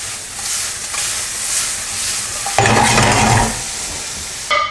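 Butter sizzles loudly in a pan with apples and apple syrup, a steady close hiss of frying that swells sharply partway through as the butter hits the hot pan.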